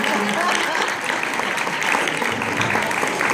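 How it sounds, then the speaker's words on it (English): An audience applauds after a girls' performance at a Louisiana Kids charity event, a continuous wash of clapping with speech audible over it. "Let's give them another round of applause."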